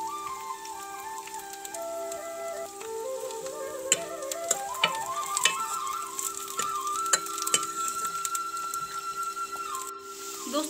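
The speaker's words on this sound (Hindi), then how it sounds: "तो आप सुन सकते हैं कुछ इस तरह से हमारे भट की भुनने की आवाज़ आ रही है।" Bhat soybeans roasting in a hot pan give a steady dry sizzle with scattered crackles and pops, close and continuous, alongside some tonal hum, with no talking.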